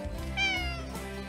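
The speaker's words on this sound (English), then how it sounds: "you'll occasionally be hearing from the true star of this podcast, my orange tabby cat, Hoover" An orange tabby cat gives a single short, close meow with a bright, clear tone, heard alone with no talking.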